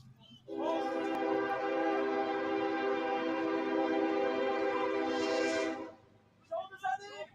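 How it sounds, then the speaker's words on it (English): A train rolls past near a soccer stadium during a match, its sustained horn blaring loud and steady for about five seconds, then cutting off as faint voices follow. "Just in time for another train."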